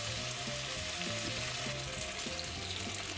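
Steak sizzles hard in a hot pan as tomato passata goes in, a dense, even frying hiss throughout with no talk over it.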